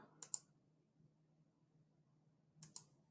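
A computer mouse gives two quick double clicks, crisp and close, separated by a couple of seconds of quiet low hum.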